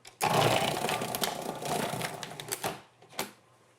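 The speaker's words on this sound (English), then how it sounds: "Now I'm going to lay these in the food processor" A food processor slicing apples for an apple pie runs loud and steady for about two and a half seconds with a dense whirring chatter, then cuts off, leaving a couple of brief knocks.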